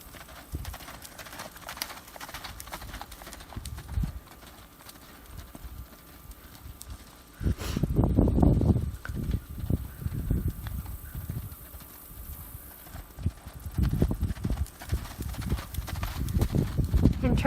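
A horse loping on a ground surface, rhythmic hoofbeats thudding in a steady three-beat pattern that grows louder and faster midway, with a rider's voice talking over it at times.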